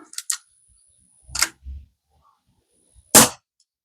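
Daisy 11A1 CO2 pistol with blowback firing a few sharp pops, clicking between shots, then one louder, crisp discharge near the end, all close up with no talking.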